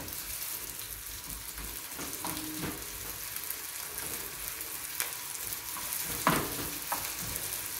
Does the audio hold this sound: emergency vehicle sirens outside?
no